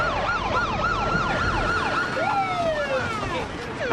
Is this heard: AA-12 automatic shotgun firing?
no